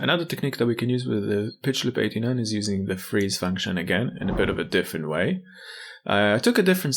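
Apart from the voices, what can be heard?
No everyday noise stands out behind the speech.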